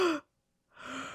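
A deliberate, drawn-out yawn made as a relaxation exercise, heard close as a breathy exhale, a brief silent pause, then a second long airy breath with a faint voiced tone.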